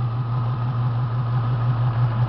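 A red Ford Mustang GT with a five-speed manual idles close by, its engine holding a steady, deep, even burble with a low rhythmic pulse and no talk.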